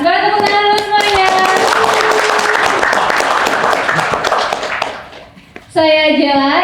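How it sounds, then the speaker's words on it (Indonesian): Dense audience applause fills a community gathering for an Indonesian crypto token group, loud and continuous for several seconds. It comes between bursts of tonal music at the start and end, and briefly thins before the music returns. "Beri tepuk tangan dulu semuanya."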